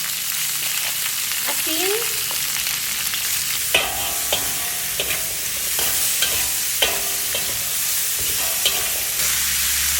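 Meat and vegetables, string beans and squash, sizzle steadily in a hot pan for coconut-milk ginataang gulay, with intermittent scraping stir strokes close by and a brief spoken word.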